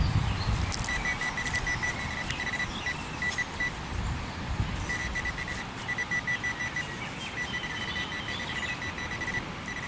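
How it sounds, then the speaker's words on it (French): Repeated electronic beeps from a metal detector during a dig, short bursts in clusters over steady background rumble and noise, with no talking. "Ça veut dire que c'est plus très très loin, comme le beeper il sonne."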